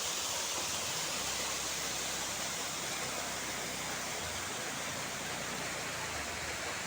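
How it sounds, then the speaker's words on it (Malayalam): Periya Canal waterfall pours with a steady, broad rushing roar of falling water, constant and unbroken, with no voices. "ഇതാണ് പെരിയ കനാൽ വെള്ളച്ചാട്ടം."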